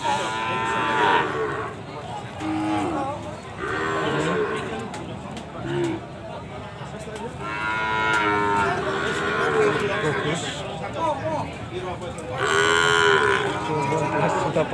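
Cattle moo repeatedly at a busy cattle market selling female calves in Kragan, Rembang, drawn-out lowing calls from several animals over a constant crowd murmur, with people talking throughout.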